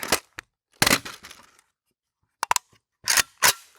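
Magazine pulled from an AK-pattern Draco SBR: sharp metallic clicks and clacks in a few separate bursts, close and loud, with quiet pauses between them.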